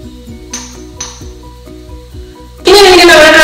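Green chillies hit a hot pan for Sultani dal curry, and a loud, bright sizzle erupts suddenly and continues steadily after a stretch of tinkling, tonal background music.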